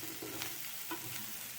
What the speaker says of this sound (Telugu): బ్రౌనిష్ కలర్ వచ్చే వరకు ఫ్రై చేసుకోవాలి.